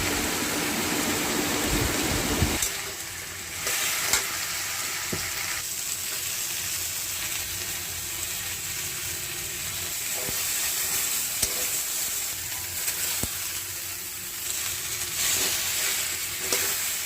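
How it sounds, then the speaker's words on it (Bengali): Pumpkin frying with tomato and ginger paste in a pan, a continuous close sizzle and crackle with occasional stirring scrapes and clinks, no talking. "আদা বাটা দিয়ে কুমড়োগুলো দিয়ে ভালো করে ভাজা ভাজা করা হবে"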